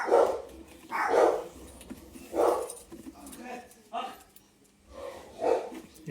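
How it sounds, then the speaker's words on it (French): Several dogs bark in short bursts, about five separate outbursts spread evenly, fairly close, with some yips and background chatter. "Comment ils aboient?"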